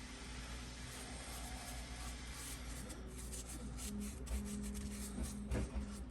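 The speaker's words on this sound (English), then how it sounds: "Got the printer going in the background, making some Lost in Space things." A 3D printer printing parts, with faint steady whirring and scraping rubs plus brief higher motor tones, quiet and continuous in the background with no talk.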